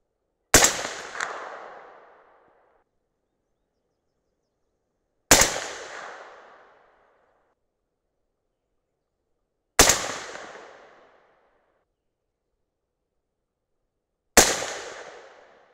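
Four single rifle shots from an Aero Precision M5E1 AR-10 ring out at a range, evenly spaced about five seconds apart, each a loud sharp crack followed by a decaying echo and silence.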